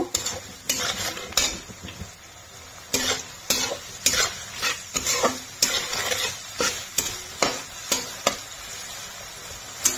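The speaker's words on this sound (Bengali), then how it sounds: "ভালো করে ক্যাপসিকামটাকে নাড়িয়ে নেব।" Capsicum being stir-fried in a pan for fried rice, with a constant sizzle broken by frequent rhythmic scrapes and clanks of a utensil against the pan, close up and with no speech.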